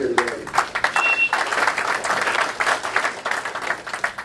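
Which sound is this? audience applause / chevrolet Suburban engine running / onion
audience applause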